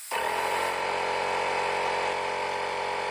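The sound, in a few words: small air compressor running, powered by portable power station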